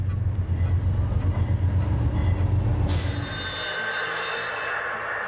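Real train rolling along the tracks, a loud rumbling roar with rhythmic wheel clatter up close that abruptly gives way to a fainter, steadier hiss and distant squeal as it moves off.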